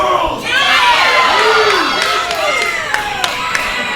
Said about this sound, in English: They're just booing him to boo.